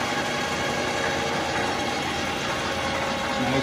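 A Clausing 5914 three-phase metal lathe turning slowly in back gear gives off a steady, even motor and gear hum with no pauses, close and moderately loud, alone with no talk.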